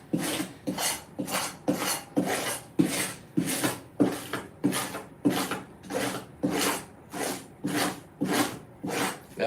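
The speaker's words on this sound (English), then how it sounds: "Now the scales are coming off on the other side because I'm scraping it too much" A sea wolf fish's skin being scraped to remove its scales, a steady rhythm of about fifteen close rasping strokes, each a harsh scratchy sweep, with no talking.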